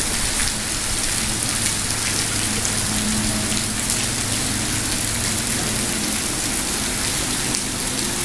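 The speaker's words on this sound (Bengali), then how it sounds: "এখন বৃষ্টি হইতেছে।" Steady rain pouring on a university campus in Brunei, a dense continuous hiss of drops striking surfaces, loud and unbroken throughout with a faint low hum beneath and no talking.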